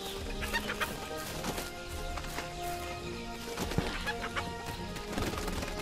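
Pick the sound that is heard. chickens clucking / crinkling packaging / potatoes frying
chickens clucking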